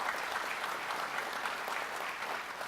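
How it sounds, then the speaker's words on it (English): Applause from the audience at the Dutchess County Executive's budget address fills the room, a steady dense wash of clapping heard alone, fairly distant and soft, with no talk over it. "How about another nice round of applause to our friends here at Arnoff"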